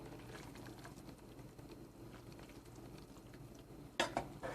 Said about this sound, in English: Get this stirred up.